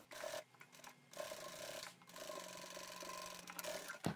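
A sewing machine top-stitches fabric about 3 mm from the edge while making a kitchen towel scarf. Its close, quiet mechanical whirring runs in stretches, broken by brief pauses.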